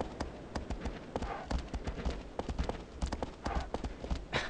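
A horse gallops in the video game Shadow of the Colossus, its hooves making a fast, steady clip-clop rhythm, loud and close over continuous rushing ambience, with no talking.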